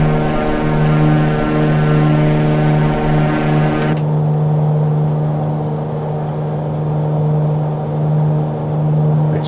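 An aircraft engine drones steadily in Microsoft Flight Simulator 2020 as flaps are extended on approach, a loud, even hum that drops abruptly to a duller tone partway through and stays constant, with no talking.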